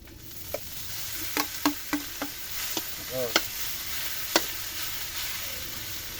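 Banana blossom stirred in a hot pan, a steady loud sizzle of frying broken by sharp scrapes and clacks of the utensil against the pan at irregular intervals, no talking.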